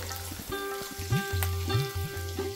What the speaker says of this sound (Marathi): यात मी हे आलं कापून घेतलंय ते घालते। ते थोडं आपण परतून घेऊ।